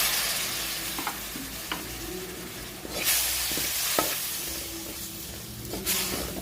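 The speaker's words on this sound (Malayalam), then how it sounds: "നമുക്ക് കുറച്ച് ചൊറുക്ക ഒഴിച്ച് കൊടുക്കാം" Vinegar poured into a sizzling Kozhikode-style sardine pickle, then stirred: steady frying hiss with sharp spoon scrapes and clinks against the pan, a brief louder sizzle surge midway, no talking.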